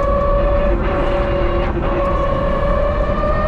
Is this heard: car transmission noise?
yes